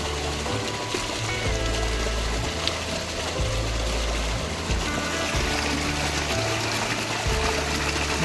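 Water runs continuously while something is being washed, a dense steady rushing splash close by with a low hum underneath.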